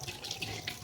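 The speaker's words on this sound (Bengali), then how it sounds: "তাই আমি ঘরে এসেই ফাইনালি হাতটা ধুই তো এখন চলো তাড়াতাড়ি করে হাত ধুয়ে নিই" Hands washed under a running tap at home, a brief, faint splash of water flowing into a sink.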